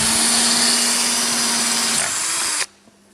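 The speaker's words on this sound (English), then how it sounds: "Drills a hole." A power drill bores a hole for a thick bolt, a loud, steady whine that shifts pitch partway through as the bit works in, then cuts off abruptly and leaves near silence.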